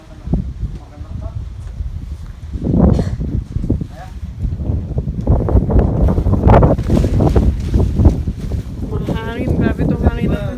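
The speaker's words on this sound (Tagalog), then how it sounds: "Mahangin, grabe itong hangin na ito." Strong, steady wind buffeting the microphone outdoors in a vegetable garden, a continuous loud roar with gusts, while someone talks over it.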